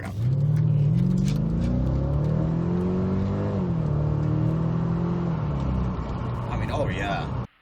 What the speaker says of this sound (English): I'm about to accelerate right now so you guys can see how it feels.